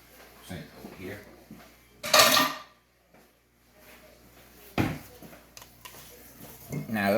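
A mixing bowl used for coconut rum pound cake batter is set down in a kitchen sink, giving a couple of loud clattering knocks amid kitchen handling sounds, with a voice talking nearby.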